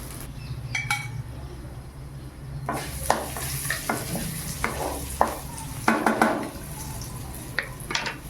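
Puffed rice being stirred and fried with a little turmeric in a pan over low heat, giving a steady soft sizzle broken by repeated scraping and clattering stirs that grow busier partway through.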